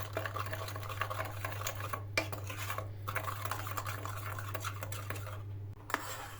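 A spoon stirring a mixture of sugar, cocoa, oil and water in a bowl, with quick rhythmic scraping and clinking against the sides over a steady low hum.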